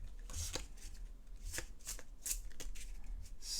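Cards from an Onirim deck are shuffled in a series of quick riffling bursts and soft slaps, close and fairly quiet, with no talking.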